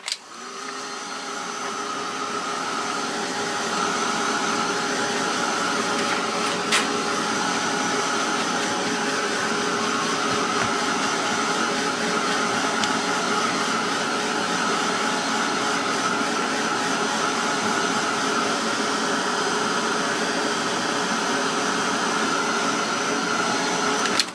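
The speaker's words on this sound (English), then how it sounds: "I'm going to give it a zap with a heat gun." Heat gun drying paint on a canvas, a steady loud blowing roar with a constant whine that starts up and then runs without a break for the whole stretch, close to the listener.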